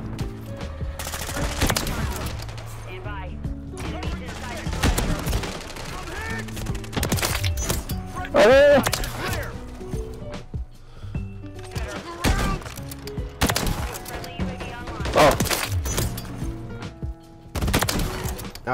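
Sniper rifle shots from the XRK Stalker, a bolt-action rifle in a first-person shooter video game, ring out as repeated loud sharp blasts among busy game sound and music, with a voice talking throughout.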